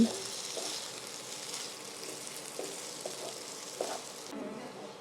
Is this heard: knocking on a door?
no